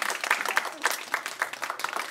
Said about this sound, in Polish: Brawa dla pana Marka z Piły.